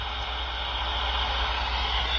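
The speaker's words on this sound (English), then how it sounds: "You can hear the audio in the background, just the truck noises." A steady, low rumble of truck engine and road noise fills the background, even and unbroken, with no voices over it.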